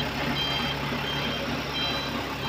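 A truck backing up on a road with its reversing alarm beeping in a steady repeated pattern over a continuous engine rumble and broad road noise, at a moderate distance.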